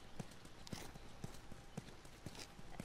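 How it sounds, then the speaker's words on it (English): Horse hooves clip-clop in The Last of Us Remastered video game, a steady, evenly spaced walking rhythm of soft thuds heard fairly close. "You guys have horses."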